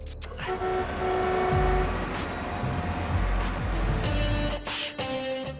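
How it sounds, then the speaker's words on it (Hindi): A car approaches in a Hindi comedy film scene, with a loud engine rumble swelling and surging under sharp honks and tonal film sound effects. "गाड़ी की आवाज सुनो।"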